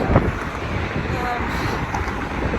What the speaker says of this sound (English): It's pretty windy today, and there's no sun.